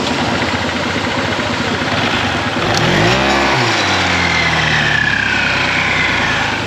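A Honda ADV160 scooter fitted with a new CVT pulley set runs close and loud, its engine revving up in a rising then falling sweep over a constant rough mechanical drone.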